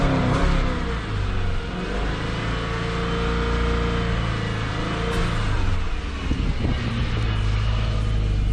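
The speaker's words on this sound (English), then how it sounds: "so we'll give it a bit of a rev up" A Subaru XV Crosstrek engine is revved to clear carbon after an oil and filter service, holding a steady raised drone with slight swells throughout, moderately loud and near.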